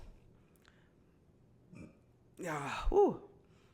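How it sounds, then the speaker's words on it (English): After quiet breathing and a faint throat noise, a single loud, croaky burp rises up close and ends abruptly. "I'm burping and everything"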